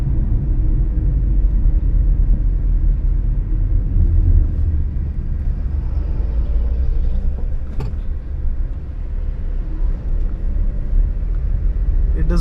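Steady low engine and road rumble from inside a Tata Nexon running on CNG as it drives, a constant drone with faint rattles throughout.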